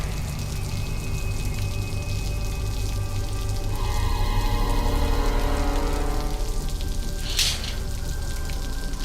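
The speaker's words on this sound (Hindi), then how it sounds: "अरे ये बारिश भी अचानक।" Sudden rain falls in an Indian television crime drama, a steady, soft hiss of drops on surfaces that swells slightly midway and runs on without pause, fairly quiet and with no voices.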